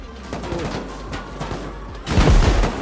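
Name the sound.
gunfire and turrets shooting in the video game Rust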